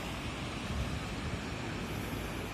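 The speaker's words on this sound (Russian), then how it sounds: "река какая шумная, смотрите." A noisy river rushes below the rocky cliffs of Narikala Fortress in Tbilisi, a steady broadband roar of churning water with no other sounds.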